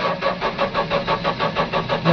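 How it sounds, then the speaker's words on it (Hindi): A Mahindra Bolero Maxi Truck Plus pickup with P1832 and P183F fault codes cranks without catching, the starter motor churning in a steady rapid pulsing rhythm, loud and close, with no voices. "ये हमारी गाड़ी स्टार्ट नहीं हो रही है"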